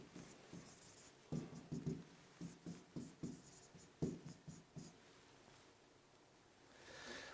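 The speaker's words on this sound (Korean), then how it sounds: "우리가 한자를 좀 써보겠습니다." Handwriting Chinese characters during an exam-prep lecture, a faint scratching pen with short strokes in irregular bursts, quiet and close, with no talk.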